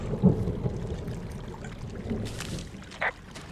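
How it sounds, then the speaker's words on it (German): Thunder rumbling during a storm in the video game Firewatch, low rolling booms with a sharp crack near the start and a brief burst later, over a dim ambient bed. "I heard some thunder"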